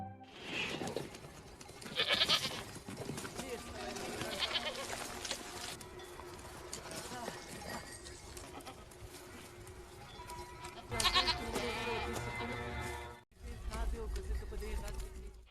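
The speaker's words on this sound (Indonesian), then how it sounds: "Terlihat beberapa ekor kambing yang bergerombol mengarah ke tempat mereka" A herd of goats bleats repeatedly over a busy, layered background, with short calls rising at intervals and voices speaking in the mix.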